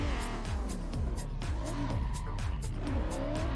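Two drift cars initiate side by side during a competition run, engines screaming at high revs with continuous tire squeal and rhythmic gear-shift and bouncing-limiter pulses, loud and close throughout.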